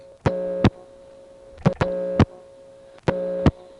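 A 1977 Monroe, New York payphone answers a flash on semi-dial tone without a dime with three evenly spaced buzzing tone bursts, each lasting under half a second, sharp and clear with brief clicks at their edges.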